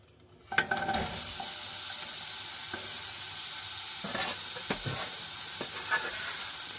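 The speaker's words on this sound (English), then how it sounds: "I'm sure you'll hear a sizzle." Onions hit a hot pan with a sharp burst, then settle into a steady, close sizzle with occasional crackles and the scrape of stirring while cooking pumpkin chili.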